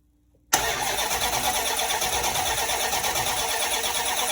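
A rebuilt 5.9 Dodge Magnum V8 fires on its first start after silence, catching abruptly and settling into a loud, steady, close-up run.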